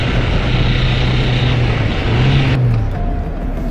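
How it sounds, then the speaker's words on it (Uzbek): A Chevrolet Cobalt or Gentra engine runs with a steady loud drone and low rattling hum, close by, its pitch wavering slightly as it idles and strains, with no talking. "Motor sal shaqillayapti"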